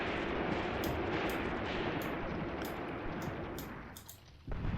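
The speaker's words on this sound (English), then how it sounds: "I'm convinced the MG's shooting at that bush." Machine gun fire in the Graviteam Tactics: Mius Front wartime battle, a dense continuous rumble of distant gunfire and battlefield noise with occasional sharper cracks, fading slightly near the end.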